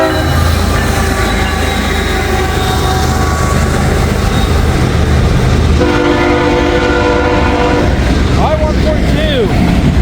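A CSX freight train rolls past near a house with a steady, loud rumble throughout, and its horn sounds a sustained blast toward the end of the clip.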